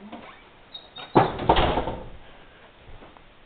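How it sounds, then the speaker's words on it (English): A door swings shut with a firm thud and brief rattle, followed by a fading rustle in a quiet room. "Let me just shut this door."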